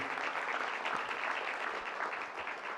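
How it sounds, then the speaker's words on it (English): A conference audience applauds at an opening session, steady clapping throughout, moderately loud and close, with no talking over it. "So a round of applause for Randy and his emceeing ability."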